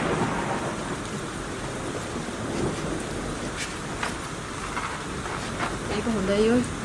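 Rain falls steadily in a thunderstorm with low rumbles of thunder rolling beneath, a continuous wash of rainfall, and a brief voice-like sound near the end.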